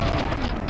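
A shotgun blasts in a modded Super Mario 64, a dense, loud, close burst of gunfire and booming impact that fills the whole short moment.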